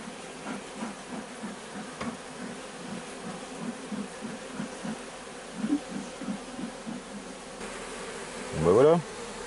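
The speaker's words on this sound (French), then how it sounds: "Passage à l'inspection, on est entré dans la ruche." Honeybees hum steadily inside an opened hive during an inspection while a beekeeper transfers the colony, a dense droning buzz with a louder close pass near the end.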